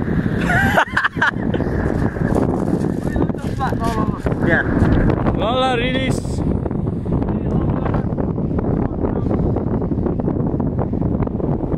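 Strong wind on a UK beach buffets the microphone with loud, continuous rumbling gusts, while people talk over it close by.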